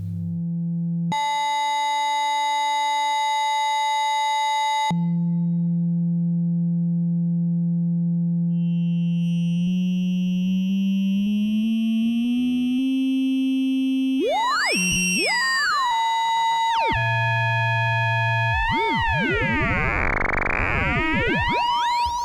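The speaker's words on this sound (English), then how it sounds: "So now it's a audio rate sine wave" An Electrosmith 3340 analog VCO on a modular synth produces sustained tones that jump between steady pitches, then warble and sweep into dense, shifting metallic clangs as an audio-rate sine wave applies linear FM; loud and continuous, with no talking.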